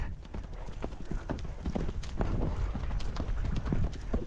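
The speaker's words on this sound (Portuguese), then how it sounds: "Uma volta completa no galope." A horse gallops in a circle under a rider, its hooves striking the ground in a quick, steady rhythm, fairly close and continuous, with soft rustling and breathing around them.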